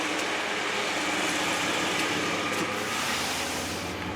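A 1993 Chevrolet Blazer 4x4's engine idles smoothly and steadily at close range, even and unchanging throughout, with no voices.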